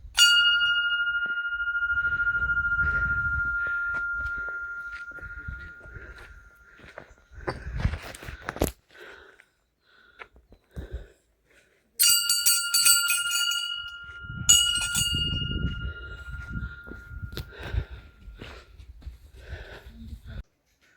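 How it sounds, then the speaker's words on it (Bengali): A temple bell rings out with a long, clear sustained tone, struck once and then again in a quick series, amid footsteps and rustling. "এই যে এখানে মন্দির, ঘন্টাটা বাজাও"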